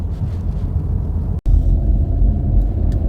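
A Subaru Crosstrek with a CVT gearbox climbs a hill, its engine a steady low drone and road rumble from inside the cabin, broken by one brief dropout.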